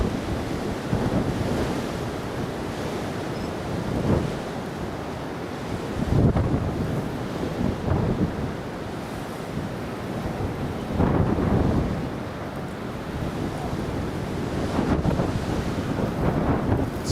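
Strong gusty wind at Newcastle Airport buffets the microphone in repeated surging blasts, rising and falling every few seconds over a constant low rumble, with no voices.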